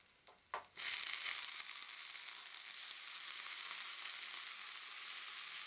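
A couple of soft knocks, then a loud hiss as banana flower hits hot oil, settling into a steady, bright sizzle that continues to the end.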